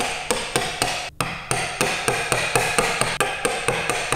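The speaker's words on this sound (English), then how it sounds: "Bit more whacking needed, so let's get that bit out." A wooden mallet strikes a chisel again and again to clear waste from a hand-cut cross halving joint, with sharp, evenly spaced knocks close up and a short pause partway through.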